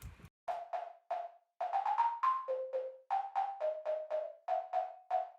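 Synth lead line from a remake of a song, played without its fast pitch LFO: a melodic run of about fifteen short plucky notes in a bouncy rhythm, steady pitches gliding between steps, clear and alone with no talk.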